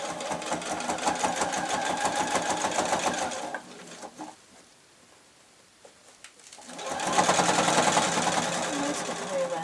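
A sewing machine stitches with bias tape around the edge of a fabric shabby chic tablet case, a fast loud mechanical whir. It runs steadily, pauses for a few seconds of near quiet, then starts again.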